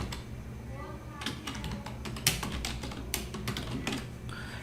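Rapid clicking of a computer keyboard as text is typed in Photoshop, a run of irregular close keystrokes at a steady moderate level.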